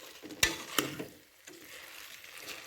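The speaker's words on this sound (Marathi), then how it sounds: "पूर्ण तांदळांका ना ती चिकनची ग्रेव्ही लागावं, मस्त मिक्स करून घ्या" Rice being mixed gently with chicken gravy in a pot for chicken pulao, two sharp utensil knocks against the pot followed by soft, quiet stirring and a faint sizzle.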